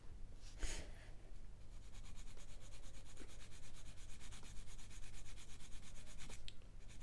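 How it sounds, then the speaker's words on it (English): A soldered brass ring joint on a plastic 1/144 Revell Flower Class corvette model is being sanded, giving a quiet, steady rhythmic rubbing of quick back-and-forth strokes, close up with no talk. "I can just sand down the soldering joint that we made"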